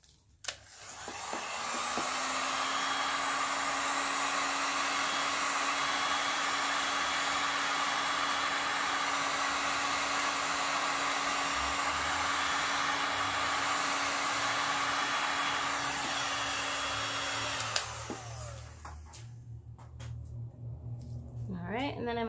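Heat tool running steadily over Stone Coat Countertops Art Coat resin with white base tint poured on a canvas, a loud continuous airy blower hum lasting about seventeen seconds before cutting off, followed by quieter handling noises.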